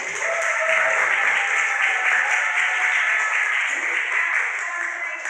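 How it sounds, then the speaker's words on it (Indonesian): An audience in a coaching session on poetry musicalisation applauds itself, a steady, even wash of many hands clapping that holds at a strong level throughout and eases slightly toward the end. "Tepuk tangan untuk kita semua dulu ya"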